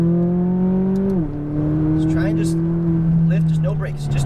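A McLaren 570S engine drones at high revs on a race track, with its pitch falling sharply at each of two quick upshifts before climbing again. The engine is close and loud, and a voice talks over it.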